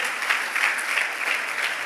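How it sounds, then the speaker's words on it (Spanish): A church congregation claps in a dense, steady burst of applause, fairly close and full, with no speech over it. "Dele un fuerte aplauso a Cristo Jesús"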